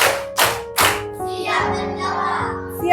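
A group of schoolchildren clapping hands in a classroom, three loud sharp claps in a quick rhythm, followed by children's voices chattering.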